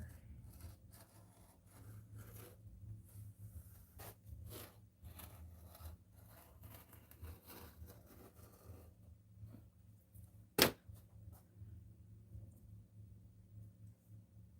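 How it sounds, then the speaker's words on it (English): Scissors cut through fabric on a sewing table, making quiet, scattered snipping and rubbing sounds over a steady low room hum, with one sharp click partway through. "just don't want this fabric to fall off my table here as I'm cutting, cutting,"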